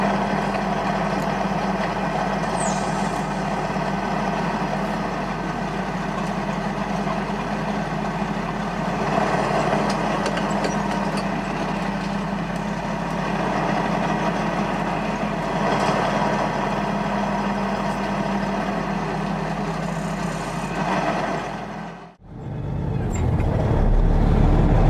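Semi truck engine idling and rumbling steadily as the rig pulls out of a shop after getting new tires, a continuous low drone that cuts off abruptly near the end before a louder burst.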